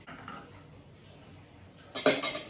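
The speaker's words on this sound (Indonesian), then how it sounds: "Kemudian kita aduk." Butter being stirred into a sweetened milk mixture for homemade condensed or evaporated milk, a spoon clinking against a metal pan; soft, sparse scraping at first, then a louder burst of clattering strokes near the end.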